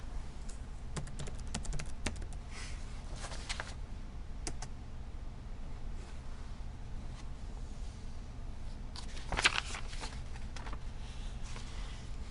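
Keys clack on a computer keyboard in short scattered bursts, quiet and nearby, with pauses between words and a small louder flurry near the end.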